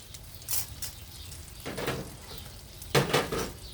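An egg spread thin in a frying pan for a Thai sour curry dish, with scraping utensil strokes against the pan over a low sizzle, three louder bursts spaced a second or so apart.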